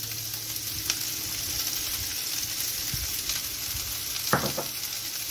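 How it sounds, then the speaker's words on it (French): Zucchini and spring onions fry in hot olive oil in a pan, giving a steady close sizzle broken by a few soft clatters of stirring. "nous allons faire revenir les courgettes et les cébettes"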